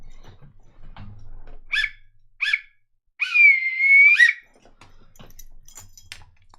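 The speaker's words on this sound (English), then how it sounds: "The full-time whistle." A referee's full-time whistle in a football match: two short shrill blasts and then one long sustained blast, loud and close, with faint voices and background noise around them.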